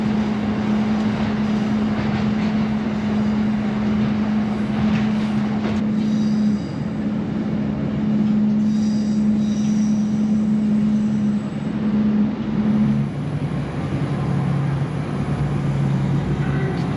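A ScotRail train rolls round the Horseshoe curve near Glenfinnan, with a steady rumble of the carriage and wheels, a sustained wheel squeal or hum running through most of the ride, and a dull, continuous interior roar.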